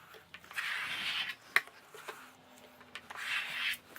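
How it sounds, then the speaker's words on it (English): A scraper drags around the side of a cake coated in chocolate ganache, set on a silver board. Two sustained, soft rasping passes come close up, with a brief sharp tap between them and no talking. "you can actually just apply more ganache and just scrape around again"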